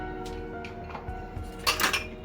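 A pan is set down on a gas stove in a home kitchen, a few soft metallic knocks followed by a brighter clatter of metal near the end, close and faint over a low steady hum.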